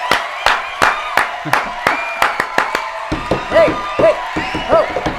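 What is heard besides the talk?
applause and cheering for the livestream chat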